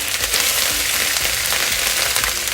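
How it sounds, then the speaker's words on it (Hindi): Ginger and garlic sizzling in oil in a pot for mutton white biryani, a loud, dense, unbroken frying hiss crackling steadily close up, with no voices. "अदरक लहसुन अगर थोड़ा सा शोर मचाए तो आप क्या करेंगे, इस स्टेज पे ढक्कन लगा देंगे"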